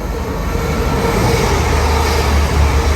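A single-unit passenger train on the down service towards Hull passes close by, a steady loud rumble of wheels and engine filling the whole stretch without letup.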